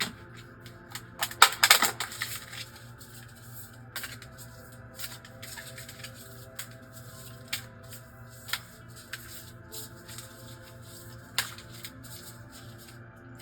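Tarot cards being shuffled by hand, with soft riffling bursts near the start followed by sparse light taps and card slides against a quiet room hum, no speech.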